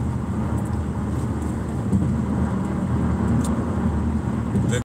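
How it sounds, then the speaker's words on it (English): A car driving in slow traffic on the San Mateo Bridge, with a steady low road and engine rumble from inside the cabin throughout, a few faint clicks, and no talking. "Yeah, I'm in sort of the traffic here."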